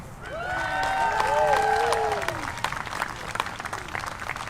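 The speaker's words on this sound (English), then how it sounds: "Let's give a round of applause for Miss Christy Kendrick." A campaign rally crowd in Covington, Kentucky applauds and cheers a Libertarian state house candidate, steady clapping with whoops and voices, close and fairly loud and tapering off toward the end.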